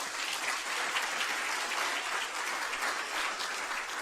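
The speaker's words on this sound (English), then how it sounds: "Let's give another round of applause to Dr. Goldrick-Rab." At an academic symposium, the audience claps for a speaker after her talk. The sound is a steady, even wash of many hands clapping, moderately distant, with no voices over it.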